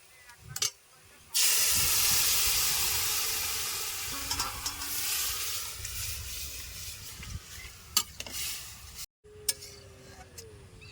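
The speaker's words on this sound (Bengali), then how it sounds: "নারকেলটা আমার সুন্দর ভাজা হয়ে গেছে আর সুন্দর গ্রানও বেড়াইছে নারকেলের ভাজা ভাজা গ্রান এবার আমি ডাল দিয়ে দেবো" Chana dal goes into a pan of fried grated coconut, setting off a sudden loud sizzle that slowly fades, with stirring knocks and a brief break near the end.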